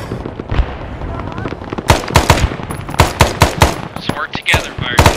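Machine gun fire rattles in a war video game, loud bursts of rapid shots and sharp cracks close by, with voices and radio chatter mixed underneath.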